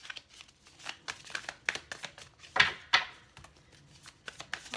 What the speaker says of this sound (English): These cards are a little more difficult to shuffle than the other ones.